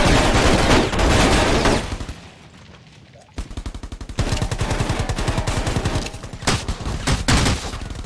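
Rapid automatic gunfire in a shooting video game crackles in dense bursts, loud and close, with a brief quiet stretch before the firing resumes in steady rapid rounds, and faint voices underneath.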